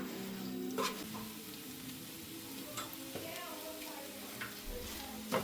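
Beaten eggs fry and get stirred in a pan, a soft steady sizzle with occasional scraping clicks of the utensil, faint and close, no one speaking.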